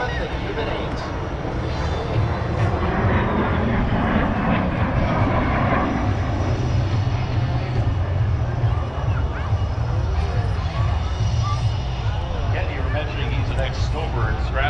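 Snowbirds jet aircraft fly a Cuban 8 manoeuvre at the Abbotsford International Airshow in British Columbia, a steady engine roar passing overhead throughout, with a commentator talking and crowd murmur beneath.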